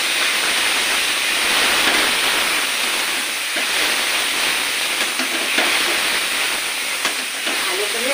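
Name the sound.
chicken frying and being stirred in a pan with ginger, garlic, chilli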